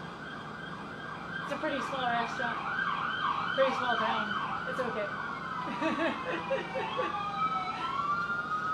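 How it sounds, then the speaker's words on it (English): Wailing ambulance sirens sweep up and down as they pass, rising and fading over steady traffic, while a person talks over them. "We've got some ambulances going by."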